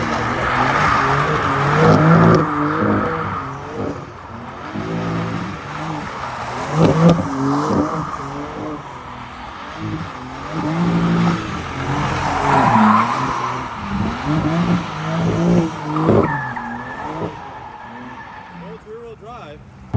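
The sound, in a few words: BMW M4 Competition G82 doing donuts in rear-wheel drive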